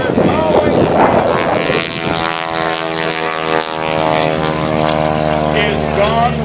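A biplane's propeller engine drones loudly and steadily overhead at an airshow, a strong harmonic whine with wind buffeting the microphone, under someone talking over a public address throughout.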